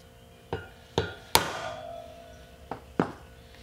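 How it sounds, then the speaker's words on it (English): A hammer strikes a center punch on a Honda CB-series motorcycle wheel at a bearing, five sharp metallic taps spaced irregularly, the middle one loudest with a ringing tail, in a quiet workshop. "So I'm going to use a center punch."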